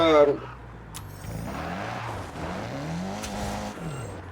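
The engine of a 2020 Hyundai i30N in a video game hums steadily as it accelerates, its tone rising and falling in gentle sweeps, heard from the cabin under a voice speaking.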